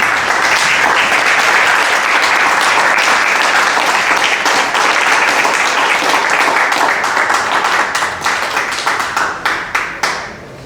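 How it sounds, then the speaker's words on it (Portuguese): A standing church congregation claps together, loud and close, a full burst of applause that thins into a few scattered individual claps fading out at the end. "Fica de pé com o pastor aplaudindo o nome do Senhor."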